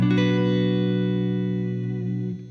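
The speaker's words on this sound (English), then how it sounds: "So now I'm going to add a Strat part, and I'm going to do this on the neck pickup here. I added a lot of reverb" Stratocaster electric guitar played on the neck pickup with heavy reverb rings out a single sustained chord that slowly decays, clean and alone, with the reverb tail lingering to the end.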